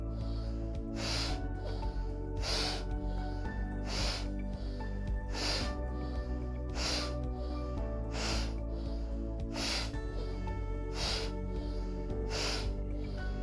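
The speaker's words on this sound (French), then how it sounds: "Encore 10 respirations." Deep, rhythmic breaths in a morning yoga session, each forceful exhale a sharp rushing burst at roughly one-second intervals over a steady musical backing, with no talking.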